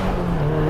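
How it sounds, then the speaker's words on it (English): A loud, raw straight-piped exhaust on a 450 hp built SR20 turbo Nissan S15 Silvia drones steadily with a rough low rumble, the engine holding high revs throughout with no pauses. "This car is pretty much straight piped."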